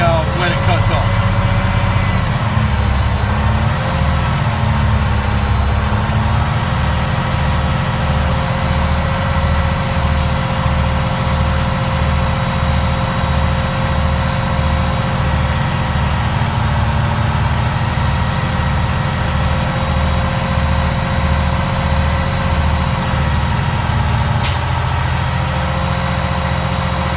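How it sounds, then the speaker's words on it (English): A truck engine runs at a steady high idle to build air compressor pressure, giving a continuous loud low rumble with a regular pulsing throb that holds for the whole stretch. "So we're going to go ahead, keep it up at a high idle, build some pressure real quick"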